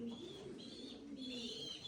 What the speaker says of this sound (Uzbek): Nihoyatda qushlari chiroylilari ko'p ekan